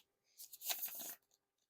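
A deck of red Mario Nintendo playing cards gets a single quiet, close riffle shuffle: a short burst of fluttering card snaps lasting under a second, followed by a faint tap.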